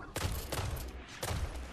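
Gunfire in Destiny: The Taken King, three heavy bursts of weapon fire with booming thuds in between, loud and close.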